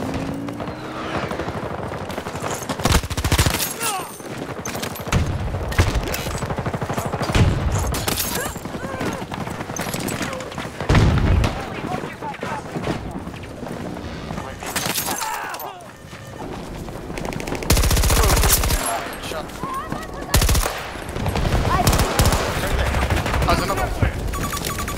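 Tank turret machine-gun fire in Battlefield 2042: sustained bursts of rapid gunfire over a rumbling battlefield, with several heavy booming impacts breaking through, loud and continuous across the whole stretch.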